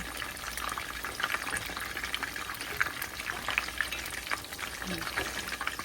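Readymade parathas with a chicken filling fry in a pan, giving a steady, fairly close crackling sizzle with brief stirring clatter and no talk.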